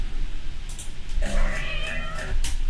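A cat-like meow sound effect heard as part of a puzzle hunt song, rising into a bright, tonal cry in the second half of the clip over a steady musical background with no talk.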